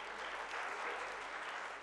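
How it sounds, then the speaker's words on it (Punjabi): An audience at a televised Punjabi evening celebration program claps in a brief, steady burst of applause, fairly faint and even. "ਜ਼ੋਰਦਾਰ ਤਾੜੀਆਂ ਇਹਨਾਂ ਦੇ ਲਈ"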